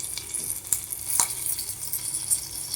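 Urad dal and curry leaves frying in hot oil for a chutney tempering, a bright, close sizzle with a few sharp crackles and spits standing out, heard alone without talking.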